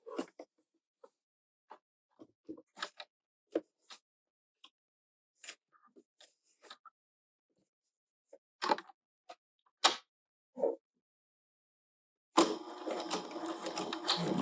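A sewing machine back stitching on a fabric caterpillar toy runs in a dense, steady burst near the end, after a string of sparse small clicks and handling taps in near silence.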